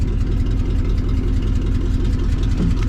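A car engine runs extra loud with its exhaust hanging loose and dangling. The close, heavy, throbbing rumble pulses steadily for a few seconds with no talking.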